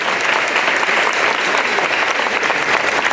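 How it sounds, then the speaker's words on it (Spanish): Steady, dense applause from a church congregation honoring children during a charismatic prayer and adoration service, loud and continuous throughout with no talk over it. "Démosle un aplauso a los niños que están a los pies de Jesús."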